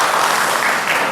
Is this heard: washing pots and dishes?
no